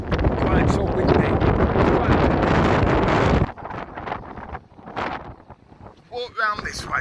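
Strong wind on Blackpool promenade battering the microphone in a loud continuous roar, then easing into gusty buffets with someone talking in between.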